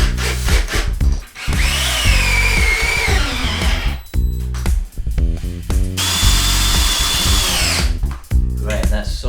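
A power drill drives two long hex screws through a table frame into the legs while an upcycled kids' table is rebuilt into an industrial rustic one. Two loud, sustained whirring bursts sit close to the mic, separated by a short gap.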